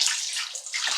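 Water splashes and pours steadily over an Honor Magic 8 Lite phone for a brief moment, a bright, hissing trickle with no voices.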